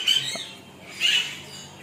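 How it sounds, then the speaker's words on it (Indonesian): Birds in an eco park aviary give two loud, harsh squawks about a second apart, close by, against a faint background hum. "dan banyak sekali burung-burungnya"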